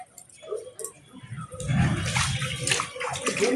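Devotees splash water from a temple pond over their heads, a steady wash of rushing and gurgling water that grows louder and fuller midway, close by.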